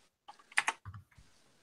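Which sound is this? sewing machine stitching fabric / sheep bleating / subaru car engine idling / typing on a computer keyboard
typing on a computer keyboard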